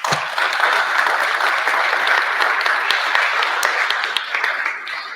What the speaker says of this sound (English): Please give all of these wonderful, kind people a round of applause